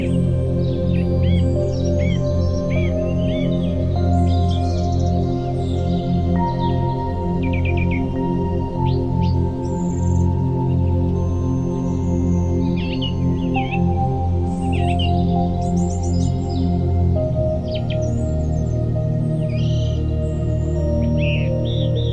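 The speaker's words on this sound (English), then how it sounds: "You have been lying in the grass all day, listening to the bird song" Birds chirp and sing in scattered bursts over a steady low hum, with insects faintly in the background; no voices.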